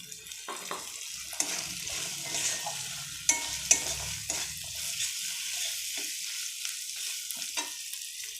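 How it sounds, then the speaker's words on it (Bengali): Green peas fry in a pan for a spicy potato curry, with a light sizzle under intermittent scraping and knocking as they are stirred, several sharper clinks standing out. "এবার মটরশুঁটিগুলো নিয়ে নাড়াচাড়া করে নিয়ে"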